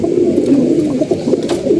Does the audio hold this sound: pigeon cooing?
yes